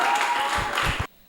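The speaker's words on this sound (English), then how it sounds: "A round of applause for her." An audience at a poetry slam semi-final breaks into a short burst of applause, dense clapping that cuts off abruptly after about a second.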